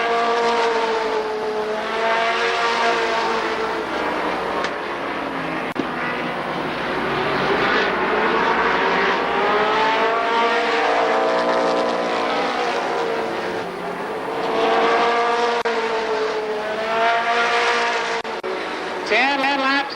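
Short-track race cars lap Columbus Motor Speedway during the 1994 Memorial Day Classic, engines rising and falling in pitch as they pass, loud and continuous over twenty seconds with a commentator speaking over them.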